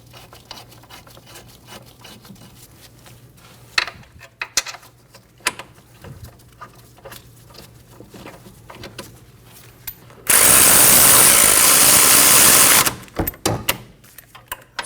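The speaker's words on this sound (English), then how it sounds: "Snug the bolts down." Brake caliper bracket bolts being snugged down on a Volkswagen Passat, scattered metallic clicks and ratcheting taps, then a loud sustained burst from a power tool for about two and a half seconds before more clicks.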